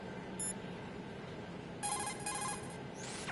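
A codec call rings in the stealth game Metal Gear Solid 2, a short bright electronic chirp followed by a longer burst of beeping tones, fairly faint over a low background hiss, with no talking.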